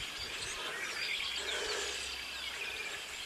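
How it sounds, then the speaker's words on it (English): Faint, continuous high chirping from birds in the distance, blended with a steady outdoor background hiss. "Fucking annoying ass birds over there."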